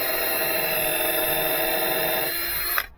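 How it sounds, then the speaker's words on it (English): Power drill pre-drilling holes into a weathered, rotting wooden deck riser, a steady close whine running continuously for about three seconds before cutting off abruptly. "I want to pre-drill"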